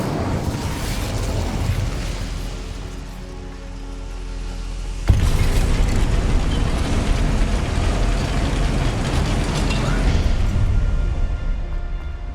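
Incendio fire spell cast in the Hogwarts Legacy video game: a loud, sudden fiery burst erupts midway and gives way to a sustained roaring crackle, with no talk over it.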